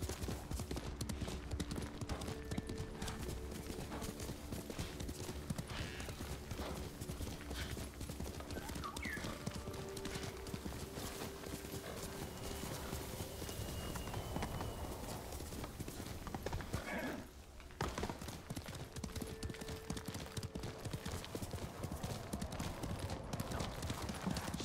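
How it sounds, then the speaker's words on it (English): Horse hooves clip-clop steadily in Ghost of Tsushima, with an occasional neigh and whinny over a dense game soundscape of ambient effects and music. "I could just take these horses if I want to."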